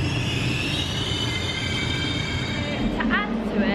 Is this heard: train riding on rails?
yes